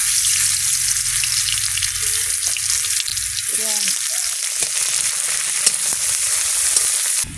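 Spices such as black cumin and garlic sizzle in hot oil in a kadai, a loud, continuous crackling hiss throughout, with a few soft clinks and scrapes of stirring and a brief drop at the very end.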